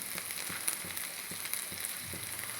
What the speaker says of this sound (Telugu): ఆనియన్స్ని మాడనివ్వకుండా చక్క ఉండి వేయించుకోవాలి